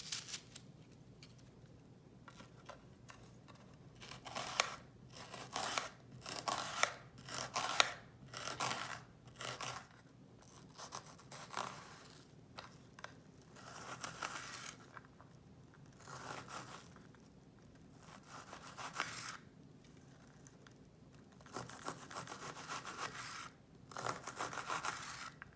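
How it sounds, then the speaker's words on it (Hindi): Onion being chopped with a knife for aloo seekh kabab, producing repeated crisp, rapid cutting crunches in irregular bursts separated by brief pauses, close and fairly quiet, with no talk. "ऑनियन को काट लेते हैं।"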